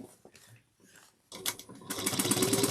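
A domestic sewing machine stitches across the small triangle cutout of a slouch shoulder bag, starting with a few short, faint bursts, then running into a loud, steady mechanical whir that holds close up to the end.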